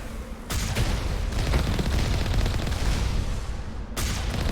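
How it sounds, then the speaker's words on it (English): Sniper rifle shots in Mass Effect 1 Legendary Edition ring out as loud, sharp cracks, with a sustained barrage of gunfire and booming impacts between them. "Those sniper rifles do more damage than the rocket"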